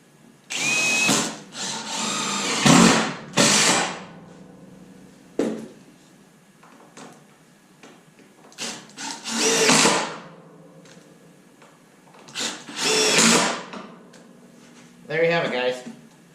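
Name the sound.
power drill driving screws into wooden trailer boards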